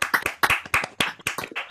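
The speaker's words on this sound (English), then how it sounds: "give her a proper round of applause" Clapping from a few people with unmuted microphones on an online seminar call, close, sharp hand claps in uneven bursts rather than a full crowd.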